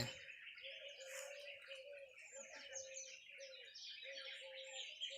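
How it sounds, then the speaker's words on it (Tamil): A bird calls over and over in short, hoarse repeated notes, with fainter chirps and tweets from other birds mixed in around it. "ஏதோ ஒரு பறவை கத்துதுங்க."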